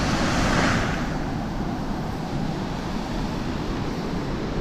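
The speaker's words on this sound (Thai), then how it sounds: "เรายังอยู่ในบริเวณของน้ำตกคอนพระเพ็งครับ" Khone Phapheng waterfall in southern Laos, a broad, steady roar of rushing water with some wind buffeting at the start, loud and continuous with no talk.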